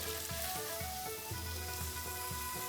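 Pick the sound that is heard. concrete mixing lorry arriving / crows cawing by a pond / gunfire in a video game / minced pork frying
minced pork frying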